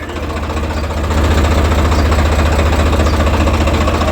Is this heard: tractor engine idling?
yes